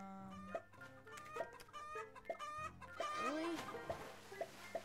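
Game chickens on a Roblox egg farm simulator cluck and squawk in short, repeated bursts over a low background tune, fairly close and clear, with several overlapping calls toward the end.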